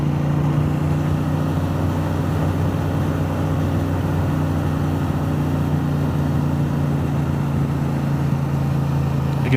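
A Honda Transalp 750 motorcycle rolls along steadily, its engine a continuous mid-pitched drone mixed with road and wind rumble, close and fairly loud, with no one speaking.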